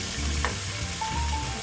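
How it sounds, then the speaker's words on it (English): Tofu pan-fries in a little oil with a steady close crackling sizzle, unbroken and without talk over it. "Right now she's hand frying the tofu."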